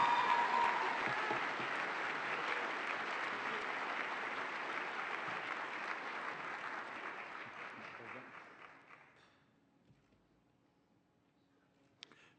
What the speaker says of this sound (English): Another round of applause for undergraduate elevator winners.